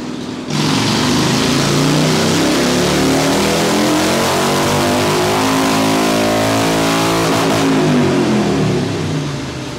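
A Harley-Davidson motorcycle on a dyno test bench starts abruptly, then holds a loud, sustained rev. The engine pitch rises and falls smoothly for several seconds before easing off near the end, with no talking.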